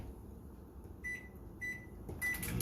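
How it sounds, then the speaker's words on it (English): A microwave oven reheating biscuits and gravy gives off a low, steady hum with a faint fan whir, broken by a few brief high tones and light clicks, quiet and without voices. "Let's put it in the microwave."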